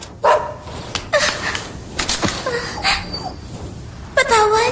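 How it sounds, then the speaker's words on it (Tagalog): A small dog yips and barks several times in short bursts, close by, with people talking around it. "Oh, ito na ang aso mo."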